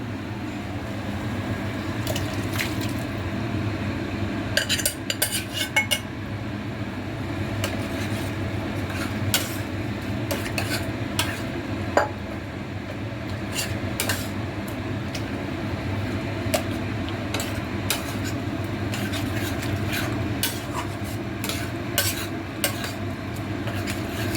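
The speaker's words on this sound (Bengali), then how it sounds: "মাটন কিমা যেটা সিদ্ধ করে রেখেছি, এবার আমি এটার মধ্যে ঢেলে দেবো, দিয়ে এটাকে ভালো করে কষবো" Boiled mutton keema is stir-fried in a pan over steady kitchen hum, with intermittent scraping and clinking of a spatula against metal, some bursts of quick stirring strokes, and a soft background sizzle.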